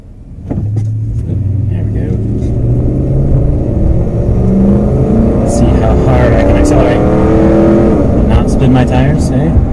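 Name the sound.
car accelerating hard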